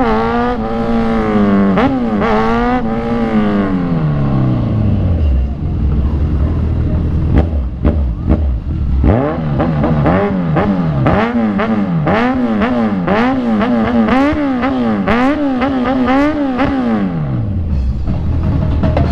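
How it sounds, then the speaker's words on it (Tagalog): Motorcycles and tricycles in a motorcade pass one after another, engines rising and falling in pitch as each rides by, loud and close, with revving bursts and overlapping passes. "Ang dami sumali sa motorcade dito eh."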